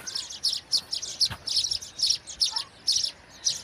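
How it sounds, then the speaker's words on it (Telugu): Small birds chirp and tweet from a thorn tree, a rapid repeating stream of bright calls that carries on through the whole stretch. "పిటకులు చూడండి ఎంత బాగున్నాయి"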